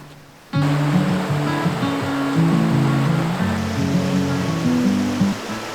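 Water rushing at Kirkham Hot Springs near Lowman, Idaho, a steady loud wash of flowing water that cuts in abruptly, with low tonal hum and rumble under the constant noise.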